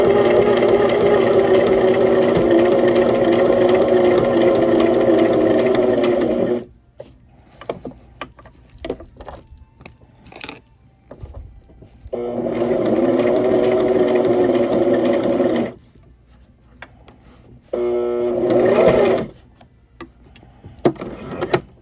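A sewing machine stitching a fabric pot holder in three loud, close, rapid bursts, separated by pauses filled with quiet handling and clicks.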